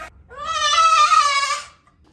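A pregnant goat on a farm gives one long, loud, wavering bleat lasting over a second, close by and clear, with near silence before and after.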